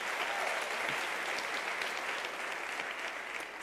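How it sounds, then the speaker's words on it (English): Sustained applause from an audience at a university autumn graduation ceremony, steady and even clapping throughout, moderately distant and filling the hall, with no talk over it. "Let us give you a round of applause."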